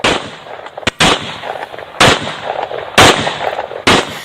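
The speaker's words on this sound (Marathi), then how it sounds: "पिस्तुलातून तब्बल 34 राऊंड या मुलानं फायर केलेले" Pistol fired repeatedly by a boy, sharp loud bangs roughly once a second over a noisy background, about five shots in a row with no talking.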